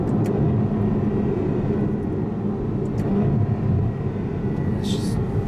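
A 730 bhp Ferrari F12 Berlinetta driven gently, heard from inside as a steady low engine and road rumble that holds an even level throughout, without revving.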